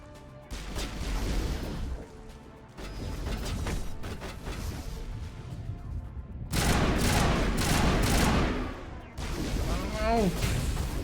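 Gunfire rattles in a video game, with loud bursts of shots separated by short gaps and a voice speaking over part of it.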